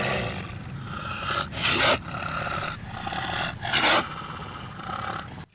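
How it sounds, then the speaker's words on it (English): A fantasy beast called a Dwairfataur growls in a story scene, with two louder roaring surges breaking over a continuous rumbling snarl, close and alone without talk. "The Dwairfataur seemed unfazed by Ulterion's threat as he continued to growl."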